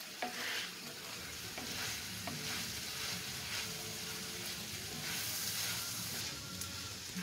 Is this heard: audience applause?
no